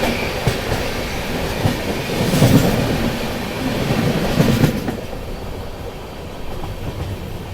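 Clickety-clack of a passing Padmavat Express's wheels on the rails near Bareilly Junction, heard loud and close from a moving Lucknow Mail 3rd AC coach, with rhythmic wheel beats building then easing off toward the end.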